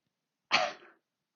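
A single short, sharp cough sounds close up in a quiet room, with a brief breathy tail and nothing else around it.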